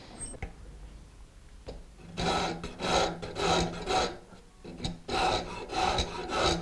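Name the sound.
filing wood to remove rasp marks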